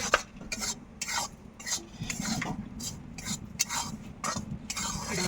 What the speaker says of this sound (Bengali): এখন আমি গুঁড়াটা ভেজে নিব। হালকা হালকা ভেজে নিব অল্প।